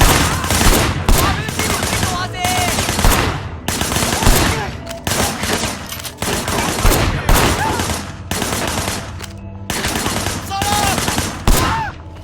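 Gunfire in the Sleeping Dogs video game, loud repeated bursts of shots and rapid fusillades close by, with game effects and music between them.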